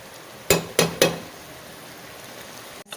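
A spoon clinks and scrapes three times in quick succession in a pan of frying greens seasoned with curry powder and turmeric, then quiet sizzling and a final knock.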